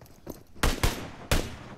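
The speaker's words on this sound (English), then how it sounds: "a few shots of SKS has been firing on him" SKS rifle shots in the PUBG video game come as three sharp, loud cracks in quick succession, after faint distant gunfire at the start.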